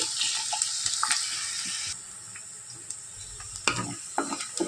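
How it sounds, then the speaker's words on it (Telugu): Mushrooms or onions frying in a pan until browned, with an uneven sizzle and a few sharp stirring clicks, close and moderately loud, and a watery splash near the end. "ఇవి బాగా బ్రౌన్ కలర్ వచ్చేదాకా వేయించాలండి."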